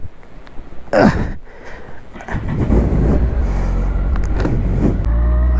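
A Kawasaki ZZR 1400 sport motorcycle engine idles and rumbles steadily and fairly quietly nearby, with a brief rev early on and some handling noises over the low running drone.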